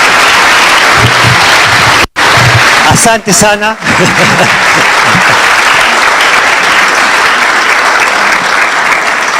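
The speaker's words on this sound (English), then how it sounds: "Let's give another round of applause to our chief guests." A round of applause for the chief guests at a business forum breakfast and expo, loud sustained clapping throughout, briefly broken by a sharp dropout and a short spoken phrase of thanks near the middle.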